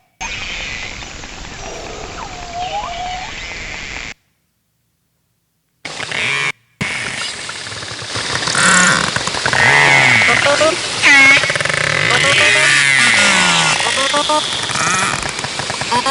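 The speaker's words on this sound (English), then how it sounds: "As highly social animals, narwhals produce a wide variety of sounds." Recorded narwhal vocalizations play as a strange, eerie stream of whistles, clicks and warbling pulses, first faint, then after a short silence louder and denser, with a person speaking over parts of it.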